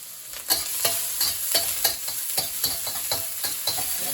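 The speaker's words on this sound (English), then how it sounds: "Stir fry it for a little bit." Peppers with ginger and garlic are stir-fried in hot oil for General Tso's chicken, giving a loud continuous sizzle broken by regular scraping strokes of a utensil against the pan, about two each second, with no talking.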